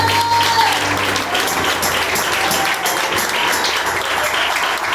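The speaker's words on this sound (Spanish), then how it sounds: "Denle ese aplauso al Señor." A church congregation claps together in steady, dense applause, loud and close, lasting throughout without a break.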